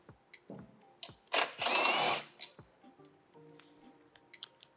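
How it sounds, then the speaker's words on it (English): A 12mm socket working a seat bolt loose on an SG250 motorcycle: scattered metallic ticks and clicks around a loud, roughly one-second burst of ratcheting or spinning, then quieter taps as the bolt comes free. "I'm going to use a 12mm socket to remove those"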